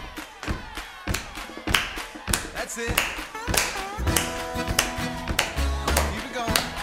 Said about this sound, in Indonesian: Kita mau hentakkan kaki ya. Terus tepuk tangan juga.